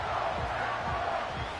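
Stadium crowd noise in Madden NFL 25 before a third-and-goal play, a steady roar of a large crowd with rising swells, loud and continuous throughout.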